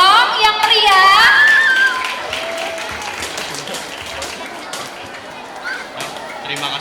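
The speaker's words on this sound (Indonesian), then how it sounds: "Ya, tepuk tangan dulu dong yang meriah." Applause from a school audience at a junior high student council candidate debate: clapping rises after a brief cheer-like voice at the start, then continues as a softer, scattered patter under room noise.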